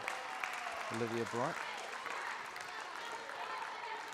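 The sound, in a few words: team applauding at a basketball game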